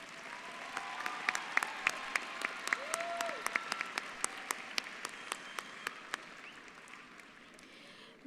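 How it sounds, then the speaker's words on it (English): Applause at a 2017 high school graduation ceremony, a moderately distant crowd clapping steadily with a few sharper individual claps standing out, gradually thinning out by the end. "Let's please have a round of applause for Mr."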